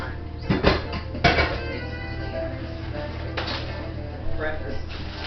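A metal pan is pulled from a home oven and handled, giving a few sharp clanks and scrapes followed by quieter kitchen clatter.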